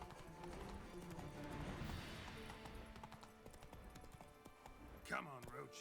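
Roach the horse clip-clopping over ground in a video game, steady hoof beats under game music and ambient sound, with a short vocal burst near the end.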